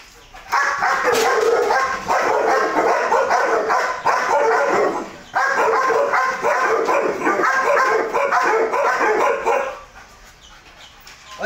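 A Belgian Malinois barks loudly and continuously, dense rapid barking filling most of the clip with a short pause near the middle, then dropping off toward the end.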